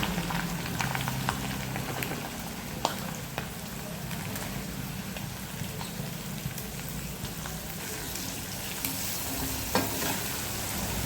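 Prawns crackle and sizzle in hot oil with curry leaves in a pan, a dense, steady frying hiss with scattered pops throughout, up close.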